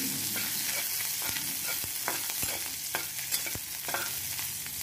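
Curry leaves, green and dried red chillies, mustard seeds, fenugreek and cumin frying in hot oil, a continuous close sizzle punctuated by repeated sharp pops and crackles as the seeds splutter.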